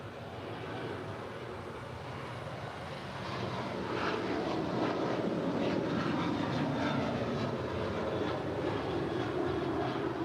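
JetBlue flight 1874 takes off from runway 25 right at LAX, a distant jet roar that swells after a few seconds and holds steady and broad, with no voices over it.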